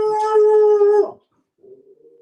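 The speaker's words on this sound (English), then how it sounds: "Oh my God, is that your dog?" A dog gives one loud, sustained tonal howl lasting about a second, breaks off, then makes a brief softer whine, close and without talk.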